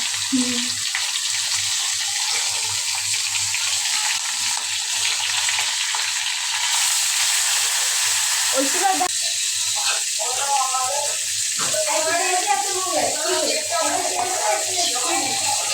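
Marinated hilsa fish frying in a pan gives a steady, close sizzle throughout, with someone speaking over it in the second half.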